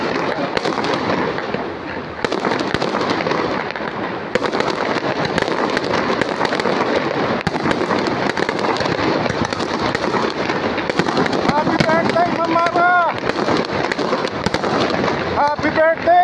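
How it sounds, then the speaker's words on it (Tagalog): Fireworks display at Darling Harbour, dense continuous crackling and popping bursts with whistling rockets near the end, mixed with crowd noise and people talking throughout. "Ibang klase fireworks dito"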